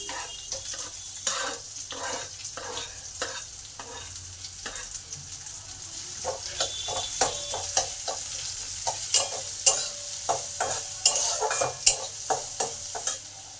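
Steady sizzling of chopped onions frying in a pan with fried chillies, with sharp scraping and clinking strokes of stirring that grow louder and more frequent toward the end.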